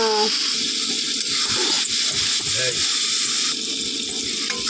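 Pointed gourd for a potol sundori dish goes into a hot pan with turmeric and sizzles with a steady, hissing frying sound. A voice talks over it throughout.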